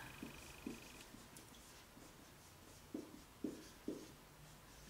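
Chalk or marker tapping and scratching on a board while a chemical equation is written, a series of short, sharp, quiet strokes in an irregular rhythm, close by with no talk.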